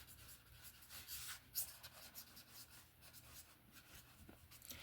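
Handwriting on paper, the faint, close scratch and rub of a pen moving in short strokes and pauses, steady and quiet with nothing else over it.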